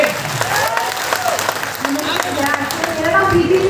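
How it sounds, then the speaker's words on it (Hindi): A large crowd at a business seminar in Agra breaks into sustained, loud applause that fills the room evenly, with voices audible over the clapping. "1 करोड़ जैसी तालियां होनी चाहिए।"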